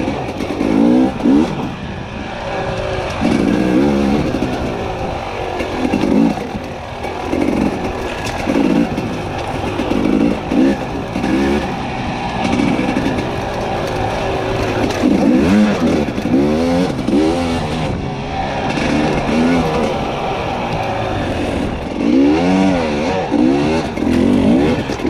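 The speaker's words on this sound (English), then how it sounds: "Hear that wheel spinning?" Enduro dirt bike on a singletrack trail, its engine revving hard and unevenly for a long stretch as the rear wheel spins, loud and close throughout with no talk over it.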